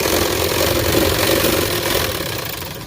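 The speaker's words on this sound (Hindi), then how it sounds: "देखें ध्यान से, मशीन हमारी एक नंबर की चल रही है, एकदम बढ़िया चल रही है।" An electric sewing machine runs steadily at a reduced stitching speed with a continuous close mechanical whir and hum, gently easing off near the end, and no talking.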